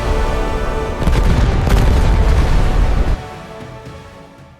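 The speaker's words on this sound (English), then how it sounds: "Continuous explosions turn the sky red, and falling debris ignites the oxygen, rippling the sky" A loud, sustained rumbling roar of explosions and blasts rolls on for about three seconds, then cuts off abruptly and leaves a fading low rumble.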